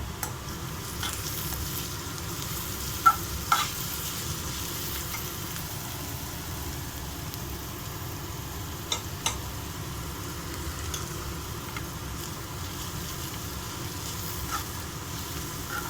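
Grated radish frying in a pan with turmeric, a soft steady sizzle with occasional faint scrapes of stirring, quiet and continuous throughout.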